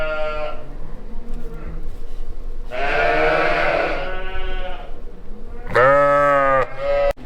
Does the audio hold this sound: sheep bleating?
yes